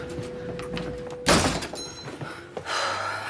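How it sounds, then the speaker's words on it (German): A door is shut with a sudden loud thunk and a brief burst of noise, following a steady tone and rustling indoor sounds, with the room's background noise continuing afterward. "Mensch, Tür zu!"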